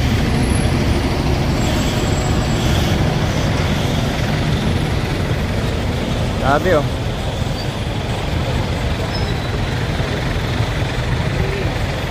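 Heavy traffic crawls along the Andaya highway in Bicol, with trucks and buses rumbling close by as a continuous roadway drone and a brief brake hiss midway, while someone speaks over it.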